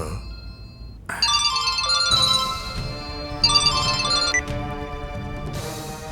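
A mobile phone rings with an incoming call, a bright melodic ringtone playing in repeating phrases over a low background hum, fairly loud and close.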